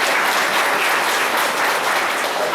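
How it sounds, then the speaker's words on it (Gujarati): A church congregation claps together during a sermon, a dense, even burst of applause that holds steady for a few seconds without talking. "તાળી પાડીને"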